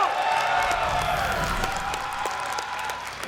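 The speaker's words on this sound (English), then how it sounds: "a lot of TaeJa fans here cheering him on" The crowd at a StarCraft 2 IPL 5 tournament cheers and applauds loudly as a match begins. The roar is dense and sustained and eases off slightly toward the end.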